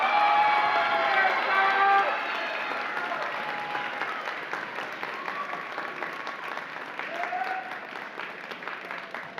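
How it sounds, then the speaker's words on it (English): Audience applause and cheering at a high school graduation ceremony in an arts center, a broad wash of clapping with whistles and shouts early on, then easing into steady clapping that carries on to the end. "Let's give a big round of applause"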